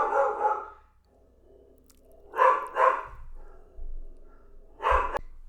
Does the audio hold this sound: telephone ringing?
no